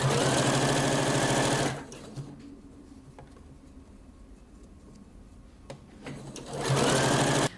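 A sewing machine stitches along the edge of a fabric blouse sleeve, a flutter sleeve being folded over and sewn, running loud and steady for nearly two seconds, pausing into quiet, then starting again near the end.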